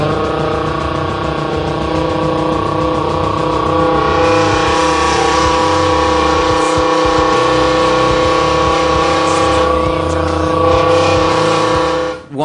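Human voice imitating a Lamborghini engine revving through a big can, a continuous loud buzzing drone that swells and holds like a high-revving motor, close and sustained.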